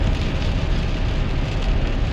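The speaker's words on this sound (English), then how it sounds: "You get a feel for how heavy the rain is pouring." Heavy rain pours onto a 2001 GMC Sierra pickup as it drives, making a dense, steady, loud hiss and roar that fills the cab without a break.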